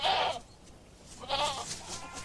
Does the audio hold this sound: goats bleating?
yes